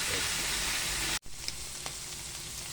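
Ground pork or beef being stirred as it fries in a pan for stuffed milkfish, a steady broadband sizzle with a brief dropout and faint scraping, close and alone.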